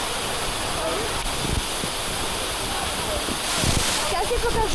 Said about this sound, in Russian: Вот и такой вот водопад.